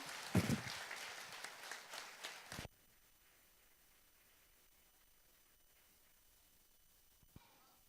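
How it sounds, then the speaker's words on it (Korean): A church congregation applauds for under three seconds with a few louder claps at the start, then the room falls nearly silent apart from one faint knock. "박수로 격려 부탁드립니다"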